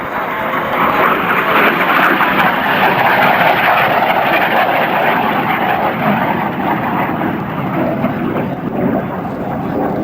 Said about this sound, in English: he's going to make a photo pass so that everybody sees the beautiful paint job on this gorgeous F-86 Sabre jet